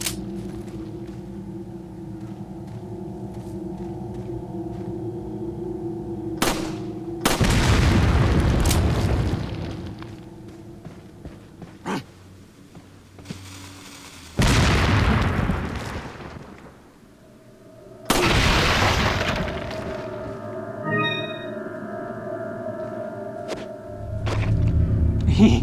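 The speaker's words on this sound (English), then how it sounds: "if you actually shoot the dynamite in their hand, they will actually explode" Dynamite blowing up in Resident Evil 4 on the Wii: several loud, deep booms with rumbling tails burst out one after another over a quieter bed of game ambience.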